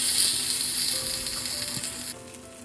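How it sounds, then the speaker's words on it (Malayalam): Hot oil tempering with curry leaves and onion for a Thrissur-style coconut fish curry, a steady bright sizzle that cuts off abruptly near the end with a clink, no talk. "ആ കറിവേപ്പിലയും കൂടി ചേർത്ത് നമുക്ക് ഇത് കറിയിലേക്ക് വറവൊഴിക്കാം."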